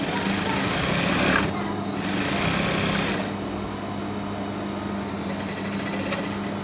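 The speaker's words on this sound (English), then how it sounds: "So let's continue with the stitching." A sewing machine stitches a garment placket with a steady, dense mechanical hum, briefly dipping and resuming in short pauses before running on evenly.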